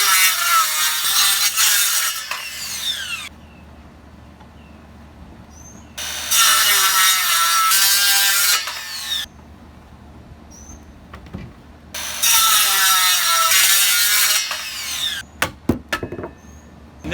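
Saw cutting a wooden handrail post at a 45-degree angle, in three separate loud bursts of a few seconds each with quiet gaps between, followed by a few sharp knocks and clicks.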